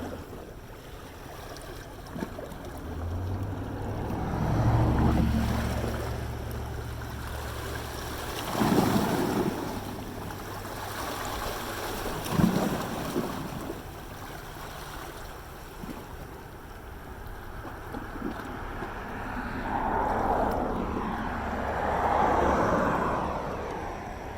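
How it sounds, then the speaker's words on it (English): Ocean waves heard from a ferry, with a steady wash of water and wind rushing across the microphone, swelling in loose surges beneath a low, constant engine hum. "I'm going to end it with the waves from the ferry."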